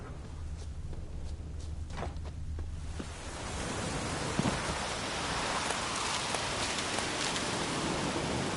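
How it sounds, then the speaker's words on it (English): Rain in The Witcher 3: Wild Hunt, a steady wash of falling rain that swells from light patter to a fuller, even downpour, with faint footsteps underneath. "Looks like rain."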